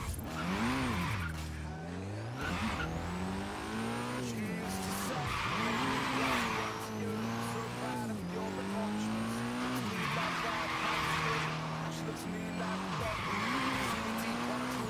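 A Nissan Silvia S15 Spec-S drifts in the racing game Forza Horizon 3, with its engine revving and tires squealing in repeated sweeping slides that rise and fall across the clip, loud and continuous.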